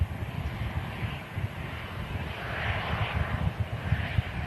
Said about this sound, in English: EasyJet just arriving in from Paris